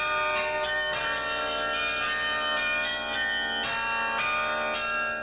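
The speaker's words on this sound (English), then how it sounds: "Bells are some of the oldest of musical instruments and a familiar sound here" Carillon bells high above the streets of a small Dutch town ring a rapid, dense melody, many overlapping strikes blending into a bright, continuous wash of pealing tones.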